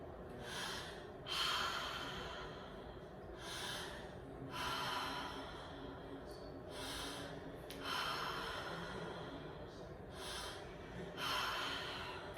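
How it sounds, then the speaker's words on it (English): Deep rhythmic breathing during a holotropic breathwork session, with forceful inhales and exhales in regular surges about every two seconds, close and fairly quiet, with no talking. "Just keep breathing."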